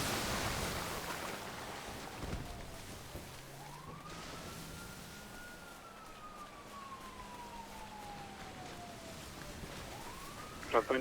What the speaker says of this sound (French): J'entends une sirène, c'est qui?